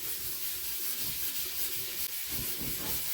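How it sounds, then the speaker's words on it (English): Close, steady scrubbing of a cymbal with a rough, hissing rub that continues without pause, loud and near with no voices. "Just kind of scrubbing it nicely, lovingly."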